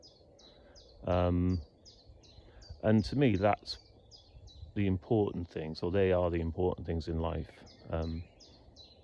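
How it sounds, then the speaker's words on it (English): Birds tweet steadily in a wood by a river, a regular run of quick high chirps repeating in the background while someone speaks in the foreground. "You can probably hear the birds tweeting away."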